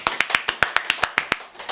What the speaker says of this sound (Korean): 다나쌤님을 소개합니다. 박수!